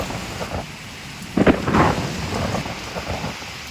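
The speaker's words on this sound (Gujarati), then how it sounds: "વરસાદ આવ્યો, જોરદાર વાવાઝોડું વરસાદ ને વીજળીના કડાકા ભડાકા" A nighttime thunderstorm with heavy rain, steady rainfall noise and a sharp crack of thunder near the middle followed by a short rumble, fairly close.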